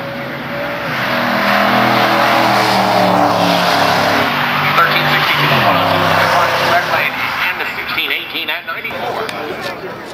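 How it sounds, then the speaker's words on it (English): A Ford Mustang GT drag racing with its tires spinning roars loudly at full throttle, engine tone rising and shifting under an excited announcer's commentary before fading toward the end. "It's the right-hand lane spinning the tires while Tower Side drives away."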